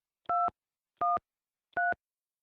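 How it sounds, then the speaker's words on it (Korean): Three short two-tone telephone keypad beeps are dialed at an even pace, each about a quarter second long and separated by silence, clear and close with no talking. "제가 전화해 볼게요."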